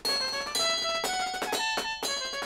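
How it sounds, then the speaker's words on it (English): Bright, ringing bells play a short melodic phrase within a cartoon band tune. The clear, sustained tones are struck in quick succession, with some notes overlapping as they decay. "And now the bells and trumpet."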